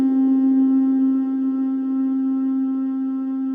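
An Oberheim OB-1 synthesizer holds one steady, buzzy note with a little noise fed into its filter, sustained evenly and alone for a few seconds.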